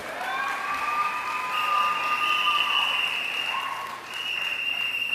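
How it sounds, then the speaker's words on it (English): Steady audience applause honoring a church leader at an evening gathering, fairly soft and continuous, with a faint cheer or voice riding above the clapping throughout. "Give her a round of applause."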